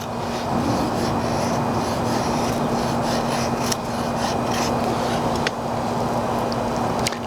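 A full-tang hunting knife shaves feather sticks from dry poplar wood, a continuous close scraping and rasping with a few sharper catches along the way, with no talking.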